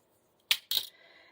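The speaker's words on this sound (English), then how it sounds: "So I'm going to just cut these ends." Two quick, crisp snips as scissors cut the paper ends for an inverted book fold, close and clear in an otherwise quiet room.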